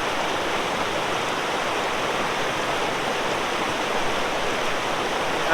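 A hill river near Pelling, Sikkim, rushes in a constant, even roar of flowing water, loud and close, with no voices or other sounds.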